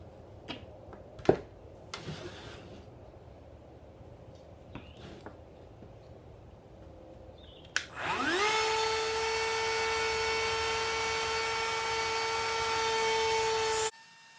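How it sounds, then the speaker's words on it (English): A router starts up and cuts into a wooden bird engraving, rising to a loud, steady high whine that holds for about six seconds before stopping, after scattered knocks and handling noises. "I will put you on hold while I router out the whole thing"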